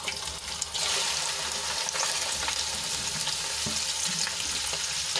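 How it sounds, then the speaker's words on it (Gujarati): Okra sizzles in hot oil with popped mustard seeds and asafoetida, a steady loud frying hiss that runs throughout, with a few small clicks and stirring scrapes. "હિંગ ઉમેર્યા બાદ આપણે ભીંડાની એડ કરી દઈશું"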